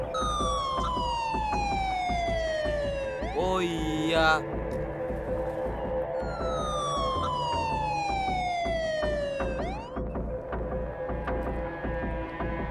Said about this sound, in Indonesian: Di mana tuh suara ambulan?